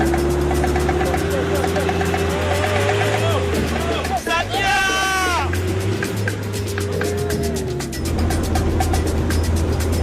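An off-road vehicle labours along rough dirt tracks with a loud, steady engine drone throughout, while a voice talks over it and animal-like bleating calls rise and fall above the rumble.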